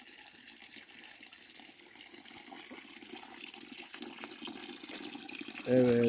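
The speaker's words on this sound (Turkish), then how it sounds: "Dağların arasından gelen su arkadaşlar bakın." Spring water from a mountain source trickles and gushes between rocks in a highland pasture, a steady moderate wash of running water throughout, growing louder near the end, with a brief spoken word over it.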